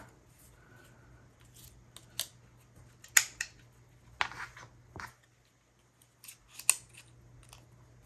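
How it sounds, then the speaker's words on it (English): Scattered sharp snips and clicks come from a corner rounder or scissors trimming the top corners of an altered card, a handful of crisp cuts separated by quiet handling noises. "And I also want to round the top corners."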